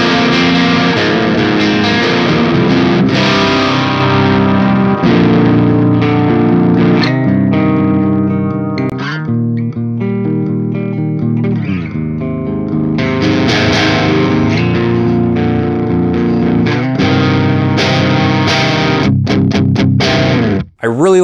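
Electric guitar played through the clean channel of a Joyo Jackman 2 Bantamp amp, a continuous run of chords and notes with some effect coloring, loud and up close, then a sudden stop at the end.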